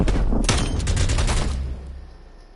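Rapid burst of Bison submachine gun fire in Call of Duty: Black Ops Cold War, loud and close for about a second and a half, then trailing off into a fading echo.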